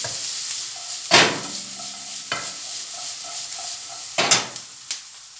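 Red peppers and other chopped vegetables sauté in a hot pan for a pasta sauce, a soft steady sizzle broken by a few loud stirring scrapes and clanks of the utensil against the pan.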